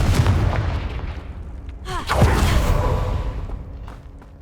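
A Confringo fire spell in Hogwarts Legacy, cast with a quick whooshing swirl and then a booming burst with crackling fizz, over a low ambient rumble.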